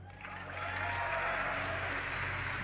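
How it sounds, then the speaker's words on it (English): A crowd at a DreamHack Winter 2012 esports tournament cheers together in a large hall, a dense roar that swells and holds steady. "one big cheer from the crowd"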